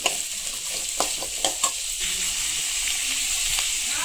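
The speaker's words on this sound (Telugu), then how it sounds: "వెల్లుల్లి వేసాము, ఎండుమిర్చి వేసాము, కొంచెం నూనెలో అది అలా వేయిస్తూ ఉండాలి" Garlic and dried red chillies fry in a little oil for a Rayalaseema stuffed brinjal curry, giving a steady close sizzle with a few sharp stirring clicks early on.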